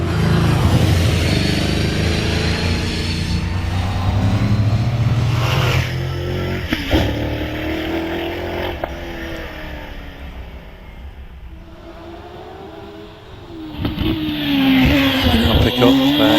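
A 7.3 litre Chevrolet V8 hillclimb race car with roughly 700 brake horsepower, rear-mounted, roars loudly through several gear changes, fades briefly mid-run, then surges back close and hard at the end.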